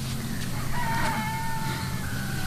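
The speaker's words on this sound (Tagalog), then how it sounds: "Nakapaminanon na nagtaraog ti kiti manok iti karuba." A rooster crows from a neighbouring yard, one drawn-out crow at moderate distance over a steady background hum.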